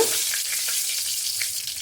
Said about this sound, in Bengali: মাছ ভাজার তেলেই দিয়ে দেব ফোড়ন। দিয়ে দিচ্ছি একটা শুকনো লঙ্কা,